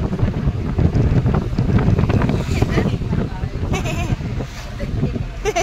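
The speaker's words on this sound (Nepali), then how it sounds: "कस्तो मस्त हावा आयो वाउ" Wind gusts buffet the microphone on an outing near a temple, a loud close rumbling roar that eases slightly toward the end, with a voice speaking over it.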